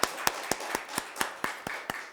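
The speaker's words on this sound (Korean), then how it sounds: "부활하신 우리 주님을 뜨겁게 박수로 환영하겠습니다." A church congregation claps in steady unison at an Easter Sunday service, sharp evenly spaced claps about four per second, fairly quiet and with no voices.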